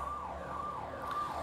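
Faint wailing siren outdoors, its steady rising-and-falling tone heard from a distance through a quiet indoor room, with no talking.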